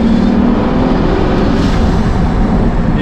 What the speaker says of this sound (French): Et ce bruit de vent